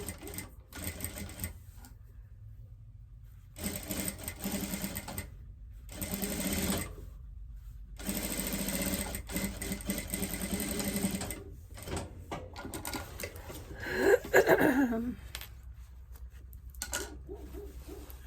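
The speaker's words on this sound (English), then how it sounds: "And there is the bottom sewed up." A sewing machine stitches the bottom seam of a zippered fabric pouch in several bursts of rapid mechanical whirring, separated by quiet pauses, with a brief clatter of handling near the end.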